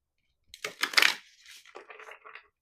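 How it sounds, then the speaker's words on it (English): A deck of oracle cards is shuffled by hand in a quiet room, giving a short burst of riffling and flicking followed by softer scattered card rustles, close and faint. "We're going to shuffle one more time."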